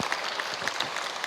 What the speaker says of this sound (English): they're clapping for you, Peanut